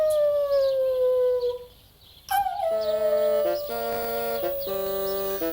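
A dog howls in a long, wavering, falling tone, then after a pause a series of sustained tones shifts up and down in steps.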